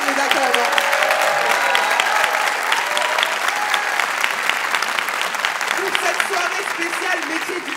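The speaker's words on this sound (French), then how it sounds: "On va applaudir nos 68 apprentis de ce soir parce qu'ils ont été extraordinaires." A large audience at an Opcommerce evening in Lille applauds 68 commerce apprentices, with sustained, loud, crackling clapping that holds steady throughout and fades only slightly toward the end.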